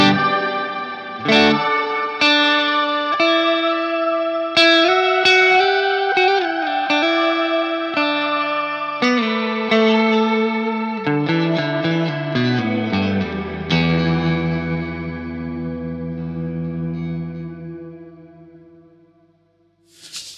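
Electric guitar played through a Mad Professor Kosmos effects pedal, with shimmering, chorus-like ambient washes and echoing trails behind sustained notes and chords, ending in a long fading decay.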